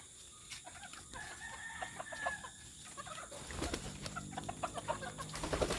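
Chickens cluck and call in a busy farmyard, a rooster crowing faintly among them, over steady background noise that grows rougher toward the end.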